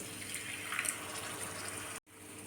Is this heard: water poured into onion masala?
yes